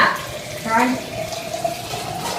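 Water runs from a tap into a container, giving a steady close gush with a gurgling rise as it fills, and a voice speaks briefly over it.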